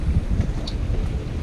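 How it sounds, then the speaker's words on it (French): Strong wind buffets a sailboat at anchor off Antigua and Barbuda, a steady low roar of gusts hitting the microphone, continuous and fairly loud, with no voices. "il y a encore beaucoup de vent"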